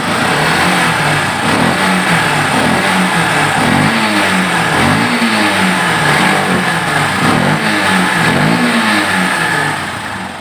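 A Yamaha Byson motorcycle engine, just back together after a carburetor cleaning, revs repeatedly in close, loud, rhythmic throttle blips for the whole stretch, with no talking.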